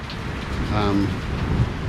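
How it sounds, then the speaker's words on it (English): In Nepal, steady rain falls with a deep roll of thunder rumbling in the background, no voices, constant and moderately loud throughout. "You can probably hear the thunder."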